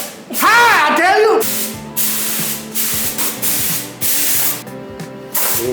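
Aerosol spray can hissing in long, loud bursts as Toyota Trueno car parts are painted, each burst separated by brief pauses, with a voice over the opening moments.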